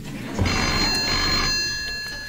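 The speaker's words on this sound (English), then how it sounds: "Go answer the phone." An old telephone bell rings continuously in a baggage room, a steady metallic trill filling the whole moment with faint background murmur beneath it.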